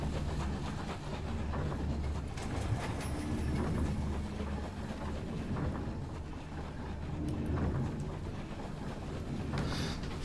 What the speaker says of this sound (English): So we got a train.